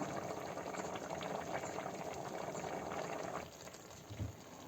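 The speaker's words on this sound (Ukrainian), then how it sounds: "Все, вже закипів наш рис." Rice boils vigorously in water in a pot, a dense steady fizzing of bubbling that eases slightly toward the end.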